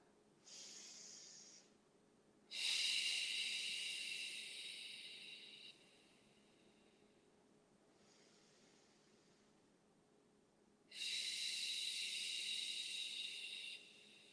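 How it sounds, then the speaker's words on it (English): Slow, deliberate breaths during a yoga pose: long airy inhales and exhales, close and soft, separated by quiet pauses, about three full breath cycles. "And breathe 3 breaths here."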